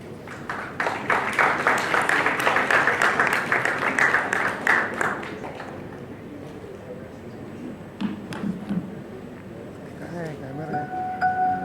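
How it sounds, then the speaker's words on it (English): Applause rises from the audience at a college entrepreneurship summit in Churchgate, dense clapping for about five seconds that then thins into scattered claps and murmuring, with some talk over the tail. "Please give Ajita a huge round of applause."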